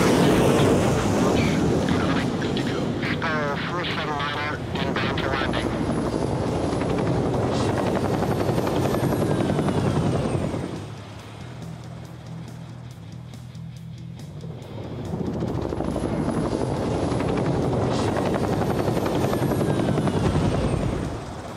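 Helicopter launching from an aircraft carrier deck in the Carrier Deck video game, Mediterranean setting: loud sustained rotor and turbine roar, a fluttering blade chop early on, a lull midway as the sound drops away, then the roar swelling back strongly.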